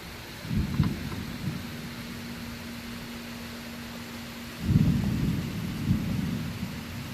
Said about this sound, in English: You can hear the rain has just started to pick up. There's the thunder, guys.